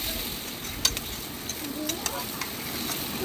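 Spices (turmeric, chilli and cumin powder) being stirred and sautéed in a pan for a puti fish curry give a low, steady sizzle with a few faint scrapes and ticks of the spoon, fairly quiet throughout.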